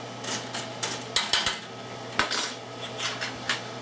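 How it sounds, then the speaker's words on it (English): A metal baking tray of pumpkin seeds slides back into an oven, with scraping metal clatter and several sharp clanks over a steady low oven hum, close and moderately loud. "So we'll push that one tray back in."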